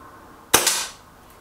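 A single sharp crack of a Reximex Lyra air rifle shot, close and loud, with a short decaying tail and a faint second report just after, then near silence.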